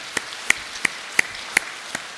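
Hands clap in a church service, about six sharp, evenly spaced claps in a slow steady rhythm, fairly close and clear against a quiet room.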